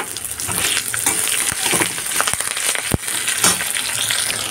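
Green chilies crackle and sizzle as they hit hot oil in a tempering pan for khatta mitha dahi vada, a dense steady fizz near the mic with several sharp pops and spits.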